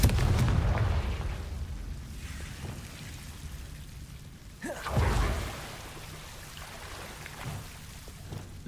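In Hogwarts Legacy, Confringo blasting spells go off as two booming explosions, one at the very start and another midway, each followed by a rumbling decay, with quieter game ambience between them.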